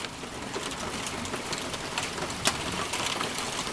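Steady heavy rain hisses continuously, with scattered sharper drops and splashes cutting through the downpour.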